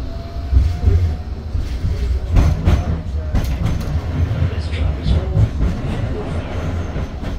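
Inside a moving tram: a steady low rumble of wheels on rails with rattles and knocks, continuous and fairly loud throughout.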